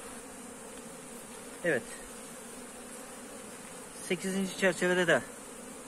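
Honey bees buzzing at an opened beehive during a colony split, a steady faint hum with a few louder buzzing passes close by, while someone talks quietly.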